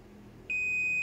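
Low room hum, then a steady high-pitched multimeter continuity-test beep switches on abruptly and holds without a break.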